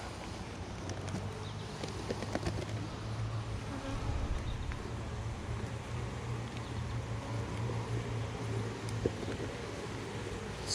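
Honey bees buzz around a hive frame during a colony split, a dense, steady drone of many insects close by for the whole stretch, with no talk.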